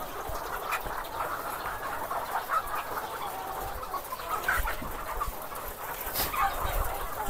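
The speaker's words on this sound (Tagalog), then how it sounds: "Daming manok." Ready-to-lay hens in a crowded backyard coop cluck and murmur continuously amid a busy, noisy farmyard hubbub, with no clear voices.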